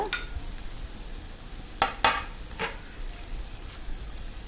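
A spoon stirs Maggi masala into sautéed onion and tomato in a pan, giving a soft, steady sizzle with a few faint scrapes and clinks close by.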